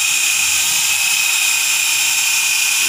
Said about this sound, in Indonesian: Kita putar bor